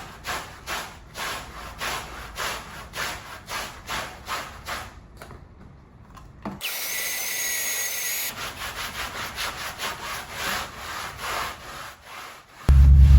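Clothes being scrubbed by hand to lift stains during housekeeping at a rental, a rhythmic rubbing and brushing that repeats in quick strokes, pauses briefly, then gives way to a steadier hiss before a sharp thump at the end.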